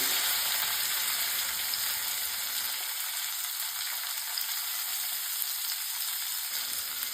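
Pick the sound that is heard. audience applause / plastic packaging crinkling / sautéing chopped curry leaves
sautéing chopped curry leaves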